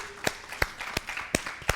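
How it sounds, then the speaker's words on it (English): A handful of sharp, separate claps ring out at an uneven pace over a murmuring room during a church service, like a small scattered round of applause. "One more round of applause, please."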